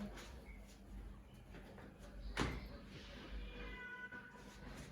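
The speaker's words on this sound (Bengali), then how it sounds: "বাইরে একটা বিড়াল আসছে" A cat meows outside a door, faint and somewhat distant, with a brief louder sound near the middle over a low, noisy indoor background.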